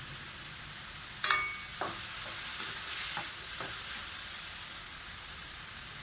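Chicken fried rice frying on low heat makes a steady, close hissing sizzle throughout, with a few scraping stirs of a utensil in the pan early on.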